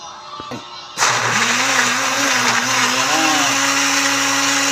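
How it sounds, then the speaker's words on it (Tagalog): A blender starts abruptly and runs steadily at high speed, a loud continuous whirring whine with slight pitch wobbles as it churns through chunky carrots. "Mag-blender na naman tayo ng carrots tsaka ito."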